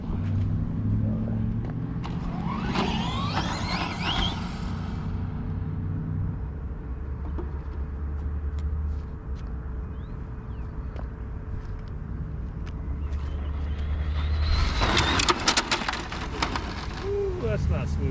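A Traxxas Drag Slash RC car on a 3S battery makes a speed run: a rising electric whine and rumble sweeps past early, then the car roars back close and loud near the end over outdoor background noise.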